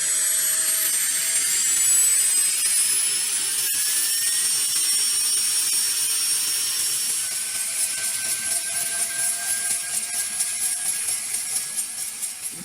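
A Dutch CH-47 Chinook helicopter's turbine engine spools up on the ground, a loud, steady whine with rising tones and a broad roar that holds throughout, a faint pulsing beat emerging toward the end.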